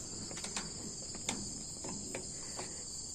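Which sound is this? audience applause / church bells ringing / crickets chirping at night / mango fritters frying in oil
crickets chirping at night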